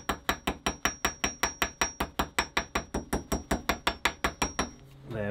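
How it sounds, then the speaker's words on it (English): Hammer striking a copper rivet to texture it on a handmade oak front door, about twenty sharp metallic taps in an even, brisk rhythm, close and loud, stopping near the end. "We take our copper rivet and we just texture."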